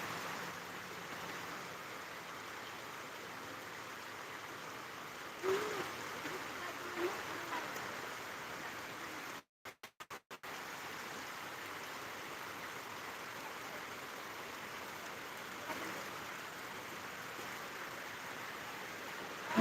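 Heavy rain falls steadily outdoors in Hemayetpur with no wind, making a dense, even wash of noise that briefly cuts out midway and then resumes.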